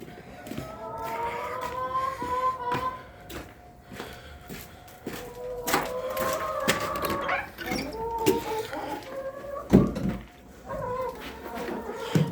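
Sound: chickens clucking as they are let outside

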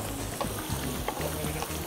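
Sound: shallots and garlic sautéing in hot oil

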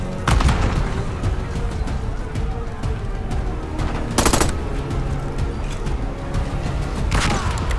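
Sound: grenade explosion and gunfire in the video game Call of Duty Black Ops 6

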